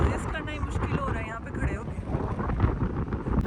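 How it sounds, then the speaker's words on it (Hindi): Strong seaside wind in Baku buffets the microphone in gusty, rumbling roars, with a voice talking over it. "इधर हवा इतनी तेज़ है कि अपने पाँव पे जम के खड़े होना मुश्किल"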